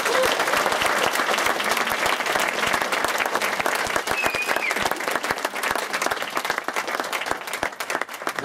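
Audience applause for young award recipients at an evening awards ceremony, a dense, steady burst of many hands clapping that holds loudly for several seconds and eases slightly toward the end.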